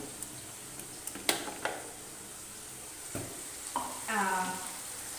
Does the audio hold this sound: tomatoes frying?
yes